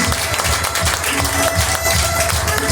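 A church congregation claps continuously in a dense, roomy wash of applause, with a voice faintly audible underneath.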